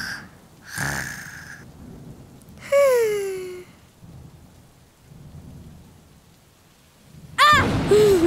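A cartoon thunderstorm with rain, in a children's Islamic series: loud, sweeping bursts of thunder with ringing, sliding tones arrive in several separate waves over a low, steady hiss of rain.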